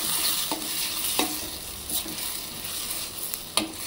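A spoon stirs tinda (round gourd) curry in a pan just after milk is added, giving soft repeated scrapes and clacks over a steady gentle sizzle, close and moderately quiet.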